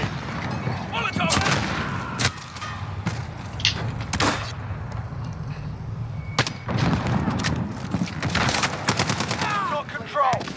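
Fast, loud bursts of gunfire and heavy grenade blasts fill a Modern Warfare match, with rapid volleys and sharp impacts piling densely over one another almost without a break.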